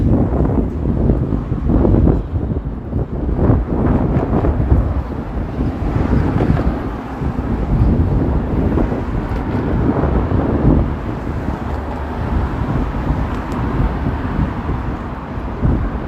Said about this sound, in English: Oh man, this wind.